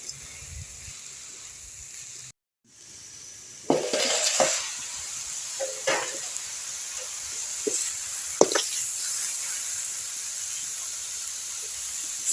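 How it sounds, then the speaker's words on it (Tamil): Papaya being stirred and tossed with salt in a pan, a hissing fry under scattered scraping strokes of the spatula after a brief gap. "உப்பு போட்டு ஒரு பரட்டை பரட்டி மூடிக்கலாம்"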